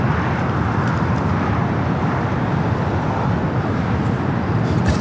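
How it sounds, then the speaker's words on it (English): A steady, loud roar from an American Airlines A321neo jet taking off at LAX on its way to Kahului. The roar holds broadband and continuous throughout, with no voices. "Our next takeoff here in the south is American Airlines Flight 205 heading to Kahului in the A321neo"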